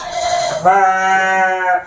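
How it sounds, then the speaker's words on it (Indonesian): A Dorper sheep in a pen gives one loud, close, drawn-out bleat. "Ini Kang Dayat akan perkenalkan domba Dorper"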